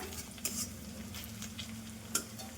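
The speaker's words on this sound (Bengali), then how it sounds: "এবার কড়াইতে তেল দিয়ে পেঁয়াজটা ভেজে নেবো" Onion frying in oil in a wok, a quiet steady sizzle with a few light scrapes and clinks of a spatula stirring against the pan.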